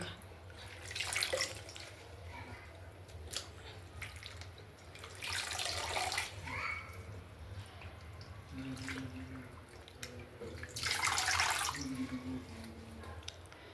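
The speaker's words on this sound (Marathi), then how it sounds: "बघा तीन पाण्याने धुतली तरी पण माटी माटी निघत होती कोणताही हिरवा भाजीपाला असला ना त्याला धुवून घ्यायचं" Amaranth leafy greens being washed under running water, a close, continuous faucet stream and splashing that swells in bursts as the leaves are rinsed and handled.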